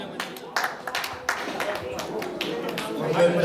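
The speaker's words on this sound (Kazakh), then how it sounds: "Шапалақ!" Applause and clapping at a class reunion gathering, a crowd clapping fairly steadily with sharp hand claps over about three seconds, growing slightly louder toward the end amid background murmur.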